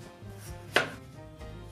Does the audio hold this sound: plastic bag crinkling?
no